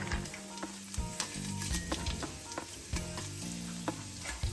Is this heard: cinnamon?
yes